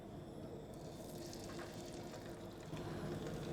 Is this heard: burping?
no